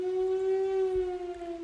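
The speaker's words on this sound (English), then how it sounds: "Oh no, there's the siren!" A civil-defence-style siren sound effect plays during a Curse of Strahd tabletop game session, a single steady, loud wailing tone with strong harmonics that holds throughout.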